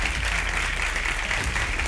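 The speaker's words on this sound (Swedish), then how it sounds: "En stor applåd." Sustained applause fills a hall at the Storytel Awards 2022 gala, a steady dense wash of clapping from a large audience with no break, loud and close throughout.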